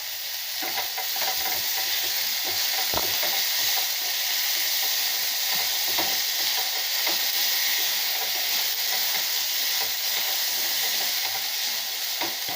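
Onions sauté in a pan with coriander and curry leaves, giving a continuous, fairly loud sizzle with scattered stirring clicks throughout.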